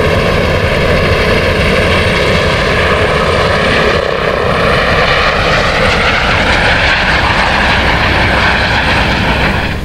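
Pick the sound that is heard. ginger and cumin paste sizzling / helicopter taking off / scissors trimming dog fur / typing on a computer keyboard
helicopter taking off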